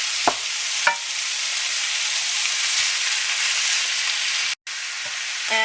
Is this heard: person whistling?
no